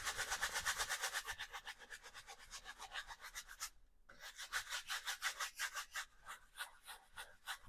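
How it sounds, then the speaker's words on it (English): A paintbrush scrubs paint onto a canvas with rapid back-and-forth rasping strokes. The rhythmic rubbing is close but soft, pauses briefly midway, then resumes at a similar quick pace. "just scrubbing the paint rather than X marks"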